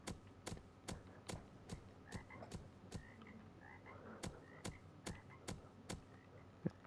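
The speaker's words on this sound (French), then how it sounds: "Y'a où une grenouille?" Sharp, regular frog croaks in a Roblox game repeat about every half second, loud and evenly spaced, over a faint background hum with no talking.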